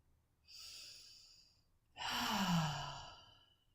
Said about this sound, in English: Inhale deeply and exhale fully with your mouth.